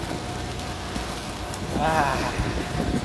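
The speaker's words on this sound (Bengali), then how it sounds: "বৃষ্টি শুরু হয়ে গেছে" Steady rain falling outdoors, a dense even hiss close by, with a brief faint voice partway through.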